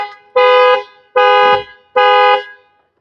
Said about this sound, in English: So now if I open the passenger door handle from inside, you will see the car horn will start honking.